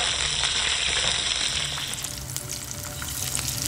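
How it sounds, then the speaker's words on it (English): Diced onion frying with a pinch of hing in a pan for poha, giving a steady close sizzle and crackle throughout, easing slightly midway, with no voices. "Add some diced onion. And once it turns golden brown,"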